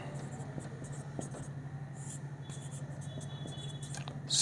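A teacher writes on a board during a maths lesson, with short scratchy strokes and taps close by, set over a low steady hum with faint background noise and no talk.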